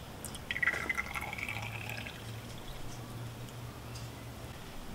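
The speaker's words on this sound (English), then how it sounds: "you want to fill each chamber up to the 10 ml mark" A water sample being filled into the chamber of a pool and hot tub water tester, giving a brief close trickle and drip of liquid that fades into a quiet, steady background.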